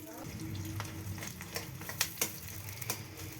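Onions fry in oil over a wood fire for a homestyle duck curry, giving a steady close sizzle broken by a few sharp clicks and scrapes of stirring.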